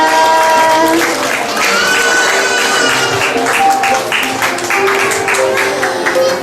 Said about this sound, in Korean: 다시 한번 큰 박수 부탁합니다.